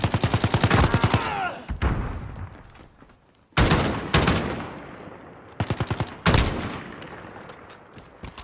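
Call of Duty multiplayer gunfire: loud rapid automatic bursts in several volleys with short gaps between them, each burst trailing into a lingering echo, no talking over it.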